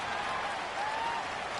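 A stadium crowd in a PS4 football video game cheers and applauds steadily ahead of a big third down, a dense, even roar throughout.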